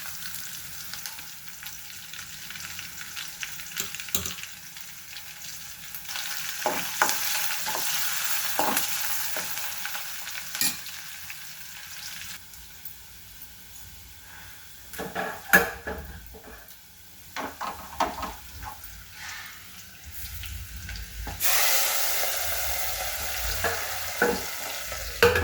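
Dal for gongura pappu fries in a pan with a steady sizzle, punctuated by scraping clinks of a utensil stirring against the metal, close and continuous, swelling louder toward the end.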